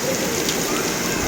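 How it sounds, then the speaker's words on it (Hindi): Heavy rain pouring in Pindi, Islamabad, with hail also falling: a loud, dense, continuous hiss of drops drumming on surfaces, close and unbroken. "बारिश बड़ी सख्त हो रही है"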